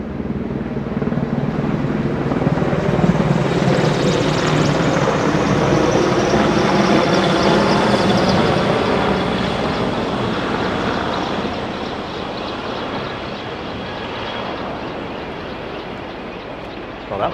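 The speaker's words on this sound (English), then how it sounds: "That's a heavy-duty helicopter." A heavy military helicopter passes overhead by the Hudson River Greenway in New York City, a loud sustained rotor and turbine roar that swells and then slowly fades as it moves away.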